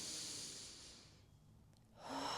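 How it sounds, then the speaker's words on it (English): A single long, deep inhale drawn close to the microphone, a soft airy rush that fades into a short pause before another breath begins, no talking. "Take a deep inhale"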